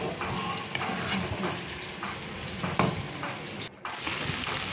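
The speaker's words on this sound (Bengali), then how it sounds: "তারপর দেখো পেঁয়াজটা লাল লাল করে ভাজা হয়ে গেছে।" Onions frying in a pan until reddish brown give off a steady, loud sizzle with faint stirring scrapes, broken by a brief dip in the noise near the end.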